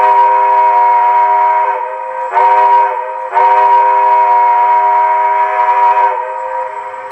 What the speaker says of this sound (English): The whistle will blow. So you can blow the traditional grade crossing of 2 longs